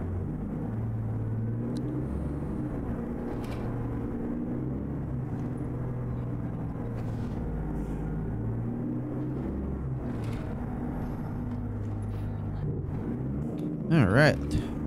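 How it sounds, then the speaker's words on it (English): Blue Bird school bus in American Truck Simulator, its engine idling with a steady low diesel-like rumble throughout, a brief louder surge near the end, while someone talks over it. "Let's go ahead and start up our bus here once again"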